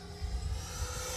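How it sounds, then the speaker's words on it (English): FMS F-16 Thunderbird 64mm electric ducted-fan RC jet flying a tight circle, giving a steady whine with a low rumble that swells slightly as it passes, heard alone at moderate distance. "I'm flying this in a pretty small circle"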